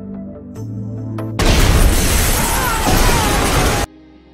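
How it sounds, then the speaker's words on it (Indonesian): A bomb blast tears through a restaurant in a film: a sudden loud, broadband explosion bursts in over music and rumbles with debris for about two and a half seconds before cutting back to the score. "terjadi aksi peledakan bom yang dilakukan oleh kelompok teroris"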